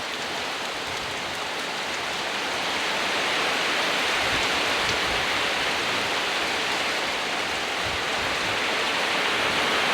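Heavy monsoon rain pours over a flooded village, a dense, steady hiss of downpour that holds at a constant loudness throughout, with no voices.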